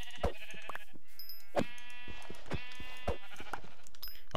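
Sheep in Minecraft bleat in several short, wavering calls spaced irregularly through the moment, fairly close and clear, with small game clicks between them and no talk.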